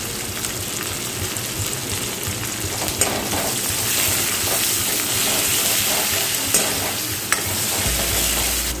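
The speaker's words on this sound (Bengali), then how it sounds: "পেঁয়াজটা আমার ভাজা হয়ে গেছে" Onions frying and being stirred in a pan for a jackfruit chicken curry: a steady, close sizzle with scraping stir strokes throughout, with a few louder clatters near the middle and end.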